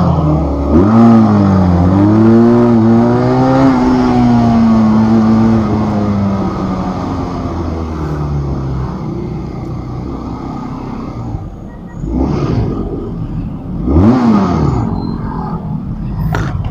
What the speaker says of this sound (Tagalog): ang ganda ng tunog ng Benelli kahit 2-cylinder